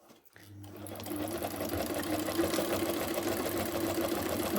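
An Empisal Goldline Deluxe automatic sewing machine starts up after a brief pause and runs steadily with a rapid mechanical whir and needle chatter, close and continuous.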